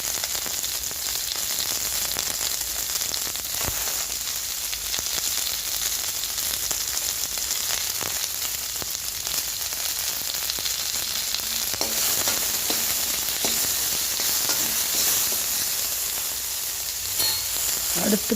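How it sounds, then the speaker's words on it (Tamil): Onion, green chili, tomato and potato sizzling in oil with tempered mustard seeds, a steady close frying hiss with occasional stirring clinks throughout. "அடுத்து கடுகு தாளித்து வெங்காயம், பச்சை மிளகாய், தக்காளி, அந்த உருளைக்கிழங்கு எல்லாத்தையும் போட்டு ஒரு வதக்கணும்."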